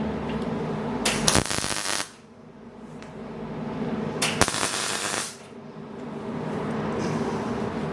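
Two bursts of welding on the seat hoop of a Kawasaki GT550 motorcycle frame, each about a second long and sharply crackling and spitting, separated by a quieter workshop background.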